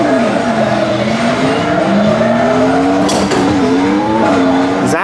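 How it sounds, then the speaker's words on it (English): Race Driving arcade game car racing sounds in an arcade, a loud synthesized engine whine rising and falling with gear shifts and tire squeals, steady and close over background arcade noise. "Race Driving, which is like a virtual driving simulator"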